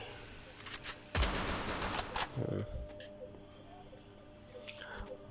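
An M82B sniper rifle in a mobile shooter fires one loud, sharp shot, followed by rattling bursts and clicks of game effects and fainter shots in the distance.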